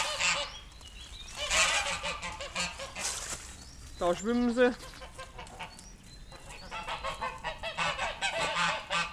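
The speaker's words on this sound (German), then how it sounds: "wie man im Hintergrund hört, jetzt sind wir unten bei den Gänse" Geese honk repeatedly nearby on a farm, loud nasal calls in clusters, while a person speaks briefly in between.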